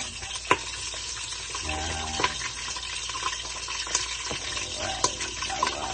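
Garlic sautéing in a pan for humba, a close, steady sizzle punctuated by sharp knocks and scrapes of a utensil stirring, with a watery hiss in the background.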